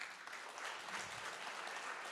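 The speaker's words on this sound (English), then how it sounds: "let's give them both a round of applause." Applause from an audience at a congress honouring Holocaust survivors, a steady, dense wash of many hands clapping heard at a distance throughout, with no talking.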